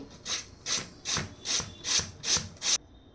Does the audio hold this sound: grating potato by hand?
yes